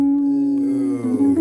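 A deliberately clumsy, poorly phrased pentatonic guitar solo: one long sustained electric note held close, then a few hesitant bends and wobbling pitch shifts near the end, with no talking.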